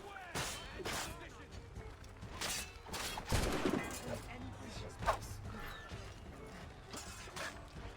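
Scattered gunshots and crashing impacts go off during a fort battle in Assassin's Creed Rogue, some near and sharp, others distant, with voices shouting throughout.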